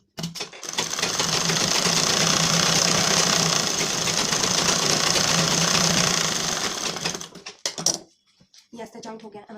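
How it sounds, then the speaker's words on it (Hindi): A sewing machine runs one long continuous burst double-stitching a blouse seam, a loud steady mechanical whir up close, then stops, leaving a few faint handling sounds. "इसको हम डबल सिलाई दे देंगे।"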